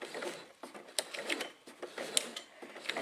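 Sewing machine stitching a straight seam, a quiet, rapid mechanical clatter of needle and feed ticking in a steady rhythm with a few sharper clicks.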